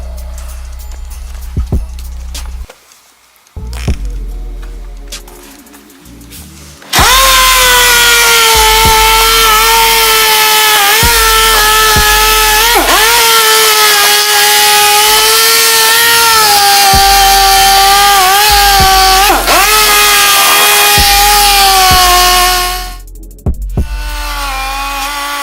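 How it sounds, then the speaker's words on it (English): An 800 grit dual-action hook-and-loop orbital sander smoothing a wheel surface, a loud steady high whine starting after about seven seconds and running continuously before cutting off, preceded by quieter handling noise. "we're going to switch to our 800 grit DA hook and loop and basically smooth out all the lines we left with the 400"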